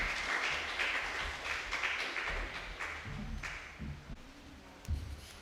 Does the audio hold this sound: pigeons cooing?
no